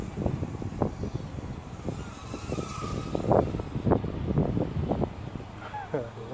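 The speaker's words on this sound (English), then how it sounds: "The wind's getting strong too." Strong outdoor wind buffets the microphone with a constant low rumble and gusting roar, while a toy drone's whine is faintly heard beneath it and someone talks over the noise.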